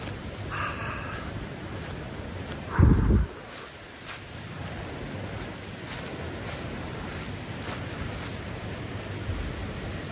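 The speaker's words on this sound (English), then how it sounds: "that's the river." A river flowing behind a guesthouse backyard in Ladakh, heard as a steady, wide rushing wash at moderate distance, with a brief gust of wind buffeting the microphone near the middle.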